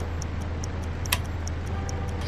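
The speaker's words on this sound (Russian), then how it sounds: "А эти часы тикают." A clock ticks steadily in a Five Nights-style Luntik horror video game, with even, close ticks over a constant low hum and no talk.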